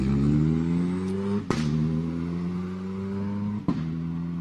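A Hyundai i20 R5 rally car at close range holds a steady, loud engine note during a rally special stage, with two sharp pops or bangs standing out at separate points.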